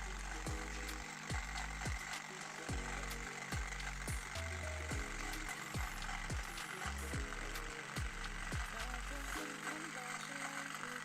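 Klixer dreadlock machine working through hair, a steady motorized buzzing hum with repeated sharp clicking ticks spread irregularly over the whole stretch, close up with no talk.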